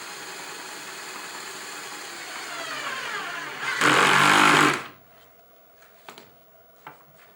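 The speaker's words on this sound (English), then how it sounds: "And then I just pull it up with the battery drill." A battery drill drives into wood on a table saw sawmill jig, its motor rising to a loud, brief grinding burst, then stopping and leaving a few faint clicks and knocks nearby.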